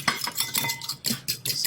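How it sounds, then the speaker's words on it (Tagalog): A utensil stirring sauce in a dish gives a run of quick clinks and scrapes against the bowl, close and fairly loud, in an uneven rhythm of several strokes. "Mix natin."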